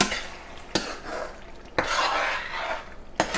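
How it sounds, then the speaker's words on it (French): A spoon scrapes and stirs crushed tomato and onion sauce in a pan. Three sharp clinks against the metal punctuate a continuous wet, gritty stirring noise, close and alone. "J'ajoute de la tomate broyée. Il faut bien mélanger notre sauce."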